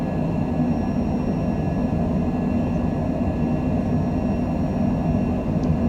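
A small airplane accelerates down the runway on its takeoff roll, with a steady, loud, close engine roar and broadband rumble throughout.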